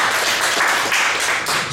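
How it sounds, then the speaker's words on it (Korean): Audience applause after a speaker is introduced at a speech class, a dense, loud burst of many hands clapping together for under two seconds. "현승호 대표님 박수 한번 보내주시죠."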